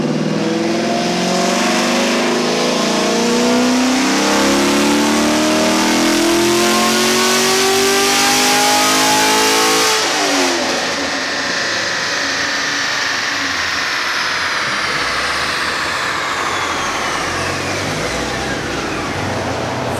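Car engine with a ported stock throttle body revving hard on a dynamometer pull, a loud rising roar that climbs for ten seconds, then drops off into a fading, winding-down drone, very close and continuous.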